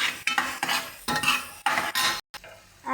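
Turmeric frying in hot oil in a pan for a sprouted-bean curry, stirred with a spoon in several scraping bursts with a light sizzle, separated by short pauses and one brief silent gap.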